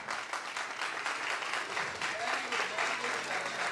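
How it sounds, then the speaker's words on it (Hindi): Audience applause for children at a Resurrection Day prize distribution, a sustained wash of many hands clapping steadily, with a voice speaking over it and faint background tones. "जोरदार तालियां बच्चों के लिए"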